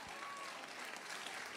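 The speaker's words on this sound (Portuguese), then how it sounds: "Olha como é que o aplauso fica fraquinho" An audience in a church gives light applause, a thin, even patter of clapping that stays steady and subdued for a brief moment.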